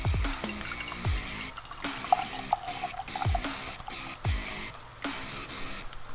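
Dark beer pours from a bottle into a glass in several glugging bursts, splashing and trickling close by, with short pauses between surges and no talking.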